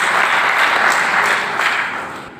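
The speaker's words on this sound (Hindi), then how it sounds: "जोरदार ताली से इनका स्वागत किया जाए।" Audience at a Hindi community gathering of a water service committee breaks into sustained, dense applause welcoming a speaker to the stage, loud and steady before tapering slightly at the end.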